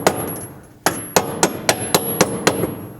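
Hammer blows drive a factory bolt out of a pivot point with a new bolt while installing a rear bumper on a Polaris Ranger, eight sharp metallic strikes in a steady rhythm, close and loud.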